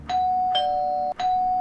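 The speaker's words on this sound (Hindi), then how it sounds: "तभी दरवाजे की घंटी बजी।" A doorbell rings twice in a home, each a loud, sustained electronic ding-dong tone with a sharp onset, the second following about a second after the first, with no talking.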